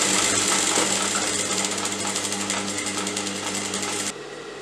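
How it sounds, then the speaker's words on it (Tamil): A domestic sewing machine, which has a thread-looping fault, runs steadily while sewing a straight stitch through fabric, its fast even mechanical chatter loud and close before it stops abruptly. "ஸோ இப்போ ஜஸ்ட் ஒரு ஸ்ட்ரெயிட் தையல் போட போகிறோம்"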